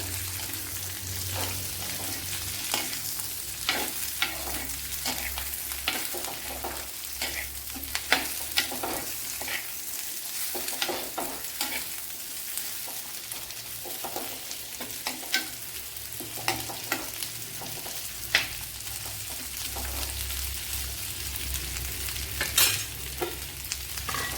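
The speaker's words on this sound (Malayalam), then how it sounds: "ക്യാരറ്റ് രണ്ട് മൂന്ന് ടേബിൾ സ്പൂൺ വരും അല്ലെങ്കിൽ ഒരു വലിയ ക്യാരറ്റ് കട്ട് ചെയ്തെടുത്താലും മതി അതും കൂടെ ഒന്ന് വഴട്ടാം" Chopped carrot sautés with egg stew ingredients in a pan, giving a steady, close sizzle broken by frequent scraping stirs, with no voices.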